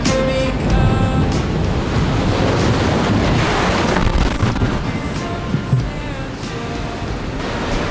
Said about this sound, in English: That was a little bit hectic with that swell coming in.